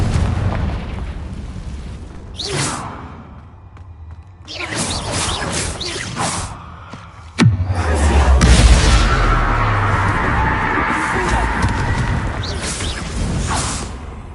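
Confringo explosion spell in the video game Hogwarts Legacy, heard as a sharp blast with a deep booming rumble and whooshing fire that swells and lingers, among earlier whooshes and impacts, loud and close.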